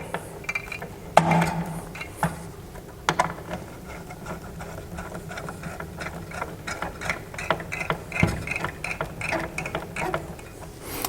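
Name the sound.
tightening screws in a cross pattern while building a PC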